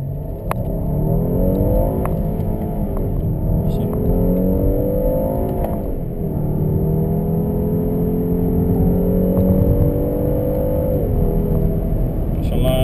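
Cadillac XTS twin-turbo accelerating hard through the gears on a Dubai street, a steady engine drone with rising and dropping harmonic sweeps heard from inside the cabin, continuous and fairly loud.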